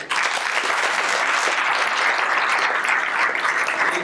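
Dense audience applause at a Stanford Citizen Corps gathering, loud and sustained after a speaker is welcomed, even clapping throughout with no talking.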